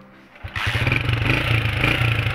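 After a moment of near silence, a motorcycle engine kicks into life and settles into a loud, close, even idle with a rough, throbbing pulse.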